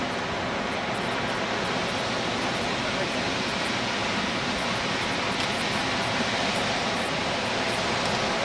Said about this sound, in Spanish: nos hemos topado con la primera catarata que se forma en el río Cañete